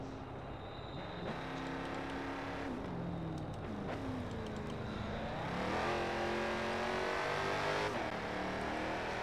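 Dodge Scat Pack engine in the Forza Horizon 4 racing game, revving continuously with rising and falling pitch through gear changes and building to a louder, sustained howl near the end.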